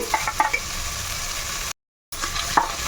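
Steady frying sizzle crackles in a pan while ingredients are stirred, with a few scraping knocks; a short silent gap breaks it before the sizzle resumes.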